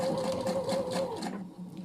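A Pfaff Quilt Expression 720 sewing machine stitches in a fast, even whir for over a second, then stops abruptly, leaving near silence; quiet and close.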